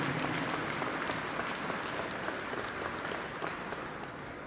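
A crowd claps steadily throughout an opening ceremony, a dense, even wash of applause that fades slightly toward the end.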